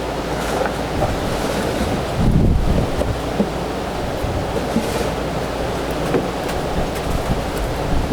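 Strong wind gusts roar across the microphone at an outdoor Coleman camp-stove cooking setup in central Kansas, a loud continuous rushing with heavier buffets, no voices heard.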